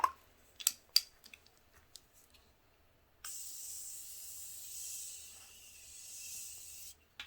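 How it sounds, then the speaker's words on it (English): Morphe Continuous Setting Mist sprayed onto a face, one long fine continuous hiss close to the ear lasting several seconds, preceded by faint clicks and handling of the bottle. "I gotta set everything down one more time. So again, I'm going in with the Morphe Continuous Setting Mist."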